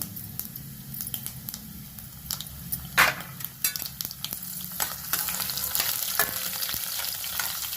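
Red chilies, green chilies and curry leaves dropped into hot oil for gongura rice, producing a close, crackling sizzle with sharp pops and spits, then a fuller continuous fry, with no talking.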